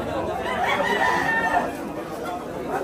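Roosters crow amid a busy chicken sale, the calls rising over the steady murmur and chatter of a large crowd of people talking nearby.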